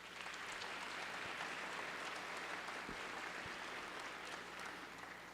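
Steady applause fills a legislative House chamber, a faint, even patter of many hands continuing without break and without talk.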